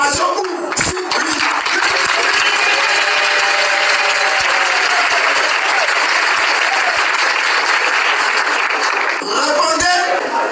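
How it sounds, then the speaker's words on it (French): An assembly of pastors in Côte d'Ivoire breaks into loud, sustained applause and cheering to approve a motion by acclamation, a dense crowd roar lasting throughout with voices mixed in. "Répondez par acclamation ou si oui."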